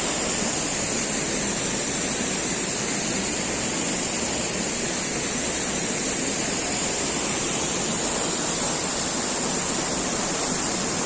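Keralamkundu waterfall roars in a steady, dense wash of falling water, loud and close, unbroken throughout with no speech.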